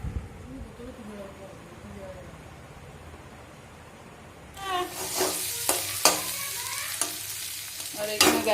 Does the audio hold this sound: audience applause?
no